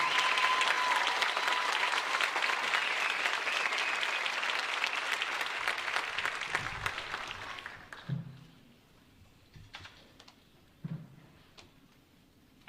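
Graduation-ceremony audience applauding Millville High School's top-ten-percent Class of 2023 students: sustained dense clapping that fades out after about eight seconds, leaving a quiet hall with a few scattered claps and small noises.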